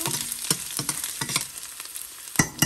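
Onion and garlic sauté in a hot pan for pork ribs caldereta, making a loud, close, continuous sizzle broken by repeated stirring scrapes, with no speech.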